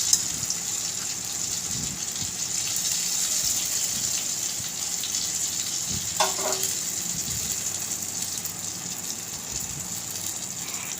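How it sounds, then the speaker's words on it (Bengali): Pointed gourds (potol), stuffed for dorma, frying in hot oil in a pan, a steady close sizzle throughout with a brief clink midway and no talking. "আমি পটলগুলো লাল করে ভেজে নিচ্ছি"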